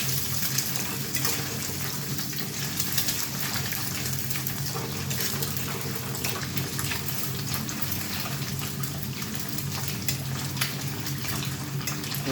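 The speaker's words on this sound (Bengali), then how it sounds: "ডিমটা ভেঙে দিয়ে দিলাম। এবার আবার একটু নাড়িয়ে ছিড়িয়ে নেব ডিমটা যাতে পেঁয়াজের সাথে মিক্স হয়ে যায় ভালো করে।" Egg and onion frying together in a pan while being stirred, giving a steady, close hiss and sizzle with soft scraping that runs unbroken from start to finish.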